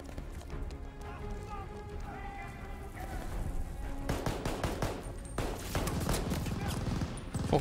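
Automatic gunfire in the Call of Duty Vanguard video game, dense rapid bursts rattling over a constant background din, growing louder and more continuous in the second half.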